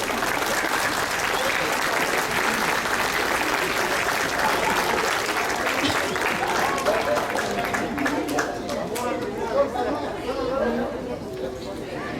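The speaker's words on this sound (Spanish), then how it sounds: "Démosle una cálida bienvenida con un fuerte aplauso." Audience at an education-for-peace event gives a warm welcome with loud, sustained applause mixed with crowd chatter and voices, the clapping thinning toward the end.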